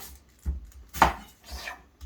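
A knife chops a purple onion on a cutting board, with three or four soft separate knocks at irregular intervals, close and quiet, and no voices.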